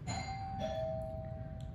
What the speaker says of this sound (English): Someone at the door. Someone's ringing a bell.